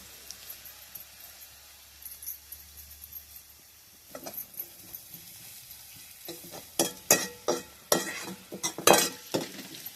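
Grated coconut and garlic roast in oil in a pan: quiet at first, then a rhythmic series of loud scraping stirs over a faint sizzle.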